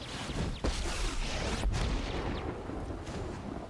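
Explosion effects from the card game MTG Arena, a series of muffled booms and bursts with crackling debris, one sharp hit near the start and a bigger one midway, fairly faint overall.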